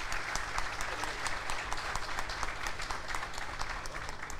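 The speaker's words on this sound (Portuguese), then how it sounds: "Uma salva de palmas aí para Cavalete" Steady applause from a crowd honoring a local sponsor family at a football club's squad presentation, dense continuous clapping held at an even level throughout with no pauses.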